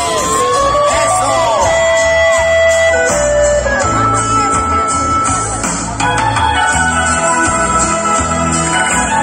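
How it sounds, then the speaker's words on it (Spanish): Women in a concert crowd shout and cheer with high whoops over a loud live band, the voices close and the cheering continuous. "A ver, un grito, mujeres."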